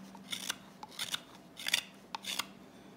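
A Morakniv 162 double-edged hook knife carves wood in a series of short, scraping strokes, about four or five crisp rasping cuts in an irregular rhythm, close and fairly quiet, with no talking.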